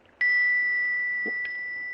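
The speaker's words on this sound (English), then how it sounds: "You hold the bell, and I'll tap it with the pendant." A small bell struck with a pendant gives a single bright, sustained ring that begins sharply and hangs on steadily, with a faint second tap partway through adding a brief shimmer.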